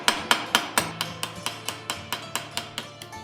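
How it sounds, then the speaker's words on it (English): A ball peen hammer strikes forged metal in a quick even rhythm, about a dozen sharp ringing blows close up, skating off the surface as a chess piece head is shaped, with no voices. "I'm just using the ball peen to kind of skate it off the surface here"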